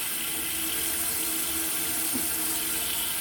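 Hot water running from a household tap supplied by a dug well with a new water softener, a steady, loud broadband rush that continues unbroken at close range.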